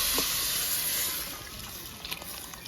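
Boiled kudampuli water is poured into a coconut-milk fish curry, a soft steady hiss of liquid that fades slightly toward the end, with a faint knock or two.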